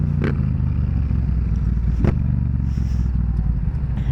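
A Yamaha FZ motorcycle idles close by at night, its engine a loud, steady low rumble with a couple of faint clicks and no talking.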